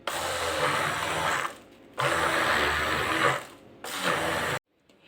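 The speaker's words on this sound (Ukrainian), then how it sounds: "І тепер перебиваємо усе блендером до однорідності." A blender purees pumpkin and orange dessert mixture in three short bursts, each lasting about a second and a half, with brief pauses between, and stops abruptly.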